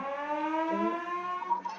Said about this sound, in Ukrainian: Ну хай буде та сирена.